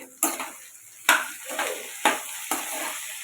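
Ivy gourd (tindora) pieces frying with turmeric in a pan, a soft sizzle broken by four sharp spoon scrapes and clanks spaced roughly every second.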